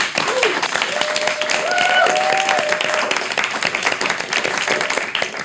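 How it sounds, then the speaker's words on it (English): A panel talk-show audience claps steadily for a guest, a dense, even patter of applause with faint voices and a few whoops mixed in. "we should give a round of applause to Misha"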